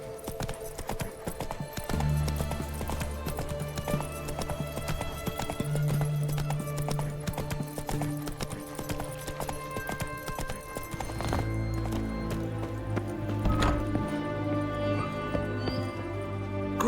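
Roach, the horse in The Witcher 3, trots along with a steady clip-clop of hooves and briefly whinnies partway through. The hooves sound fairly close over a soft game ambience.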